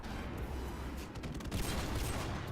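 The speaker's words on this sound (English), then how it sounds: "You hear the fucking sniper bullets?" Sniper rifle fire in a Modern Warfare Remastered match: a dense, continuous rattle of distant gunshots and impacts, busiest in the second half, with no voices.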